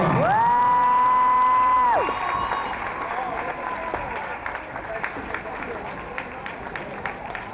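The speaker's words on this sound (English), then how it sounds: "Give a round of applause, ladies and gentlemen." A crowd at a high school girls' senior night claps and cheers, the sound beginning beneath a loud sustained horn or buzzer tone that cuts off after two seconds, then continuing as steady applause with scattered whoops and voices.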